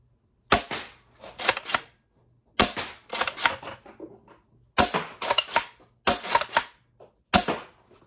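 Alchemist Blaster toy gun fired across a room, five sharp, loud bursts of snappy shots, each a quick cluster of cracks separated by short quiet gaps, with no talking.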